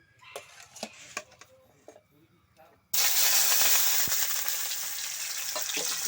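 Mutton frying in hot oil in a mixer-style pan, bursting into a loud, steady sizzle partway through after quieter kitchen clatter and soft background sounds.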